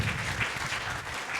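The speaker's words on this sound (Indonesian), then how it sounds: "Yang paham berikan tepuk tangan meriah buat Tuhan kita." Brief burst of applause from a church congregation during an online worship service, a steady, muffled wash of many hands clapping heard at moderate level.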